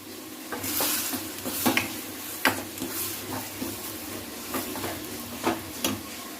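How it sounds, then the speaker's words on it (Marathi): Oysters sizzle in a pan with ground masala, a steady close frying hiss broken by repeated sharp clicks and scrapes of a spoon stirring, with no talking. "आता आपण त्याच्यामध्ये कालवा टाकला।"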